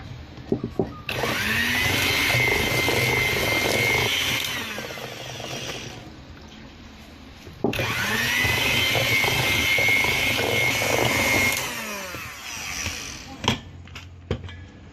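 Electric hand mixer beating eggs into pineapple upside-down cake batter, a steady whirring motor hum running in two long bursts with a brief pause between, clattering bowl knocks at start and end.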